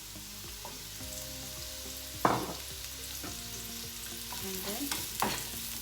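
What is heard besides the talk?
mushrooms frying in hot oil in pan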